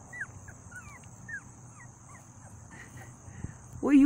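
A litter of three-week-old puppies gives thin, high, squeaky whimpers, scattered and fairly faint, followed by a sudden louder bark close by from the mother dog at the very end.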